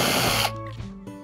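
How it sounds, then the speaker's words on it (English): A power drill bores shallow pilot holes into a Hobie Mirage Passport 12.0 fishing kayak hull, giving a short, loud whirring burst that cuts off abruptly, followed by a fading mechanical hum. "So I'm just gonna create some shallow holes here."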